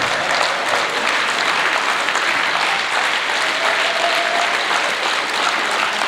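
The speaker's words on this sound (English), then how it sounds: "Can we give the ZFM a nice round of applause?" Audience at a matric awards ceremony applauding, a dense, loud, steady wash of clapping from many hands that holds evenly throughout.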